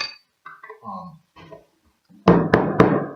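Brief talk, then three loud, resonant strikes on a bodhran with a tipper in quick succession, deep and boomy in tone, close and forceful.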